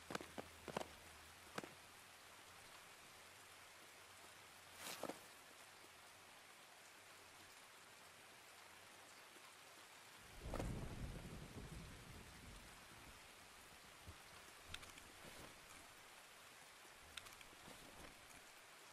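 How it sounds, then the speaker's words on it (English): Rain falling in the video game Escape From Tarkov, a faint steady wash broken by a few sharp distant thuds and a low rumbling roll midway, with scattered footstep-like taps. "God, this rain is annoying."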